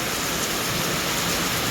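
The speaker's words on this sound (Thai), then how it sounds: "ฝนตกกลางเว้นพี่น้องเลย" Heavy afternoon rain pours steadily as a dense, unbroken hiss across the whole stretch, close and even, with no voices.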